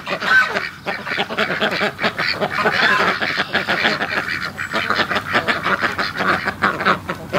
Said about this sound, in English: Oh, we got a gimpy duck here.